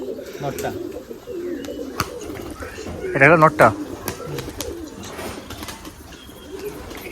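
Giribaj pigeons coo in low, throaty calls at a pigeon farm, with one short, clear burst of cooing standing out midway. Someone talks over the birds throughout, with light rustling and handling noises in the background.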